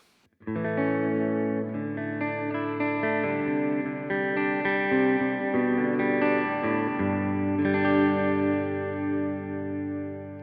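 A Greco electric guitar on its neck pickup, running through a Quad Cortex amp profile, plays sustained, warm overdriven chords that ring continuously and shift a few times, loud and close.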